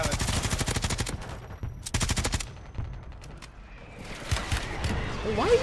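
Gunfire in Call of Duty Warzone comes in rapid automatic bursts, loud and close, with pauses between volleys and faint talk near the end.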